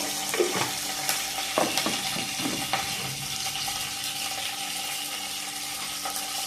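Cumin seeds fry in a hot pan with a close, steady sizzle. A few light stirring scrapes come through near the start, and no one speaks.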